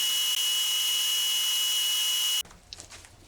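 A lathe drills and bores a dual 7/8 collar tuner, giving a steady, loud, high-pitched whine that holds for over two seconds, then cuts off abruptly into quieter clatter and light metallic handling sounds.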